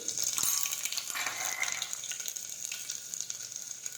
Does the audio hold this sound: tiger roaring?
no